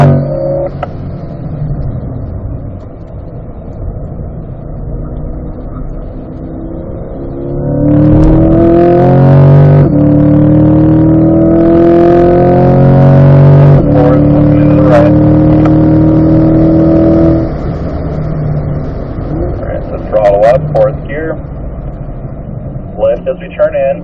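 A race car on a track accelerates hard through the gears up to fifth, its loud engine note climbing and stepping as gears change, with a driver coaching over it.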